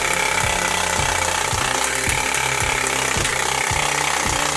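A bicycle rigged to mimic a dirt bike makes a fast, loud mechanical rattling with regular ratchet-like clicks as the wheel spins, steady and close throughout with no talking.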